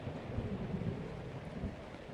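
Rain and thunder in the video game Zelda: Breath of the Wild, a steady hiss of rainfall under a low, rolling rumble, continuous and moderately loud with no speech.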